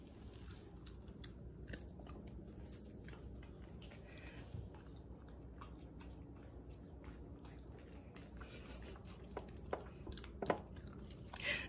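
An Italian greyhound chews food close by, giving soft irregular crunching and smacking sounds over a steady low background hum, with a few sharper clicks near the end.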